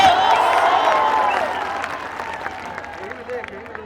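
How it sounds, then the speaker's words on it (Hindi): Crowd clapping and cheering at an election rally, loud at first and gradually thinning, with a voice speaking over it through a sound system. "ताली बजा के आशीर्वाद देना चाहो"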